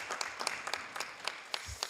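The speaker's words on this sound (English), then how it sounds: "let's give a big round of applause to Southgate" Brief, sparse clapping in a city council meeting chamber honoring an elementary school, a few scattered hands heard at moderate distance, fading quickly.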